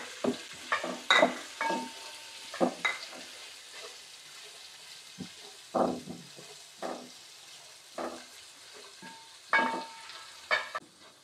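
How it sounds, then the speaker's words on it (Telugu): Sliced onions fry in a pan for bagara rice, giving soft sizzling with repeated stirring scrapes and clinks at an irregular rhythm, fairly close, with no talking. "మన ఆనియన్స్ మంచిగా ఫ్రై అవుతుండగా"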